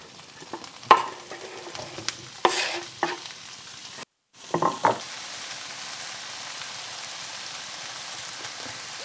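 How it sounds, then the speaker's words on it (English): Sliced sausage frying in a pan: a fine crackling sizzle runs throughout, broken by a few louder clatters and scrapes as pieces are moved, with a brief dropout midway, close and without speech. "And now time to fry my sausage."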